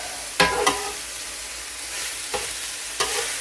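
Ground beef and onions fry on a flat-top griddle with a steady close sizzle, broken by a few sharp scraping stirs of a spatula.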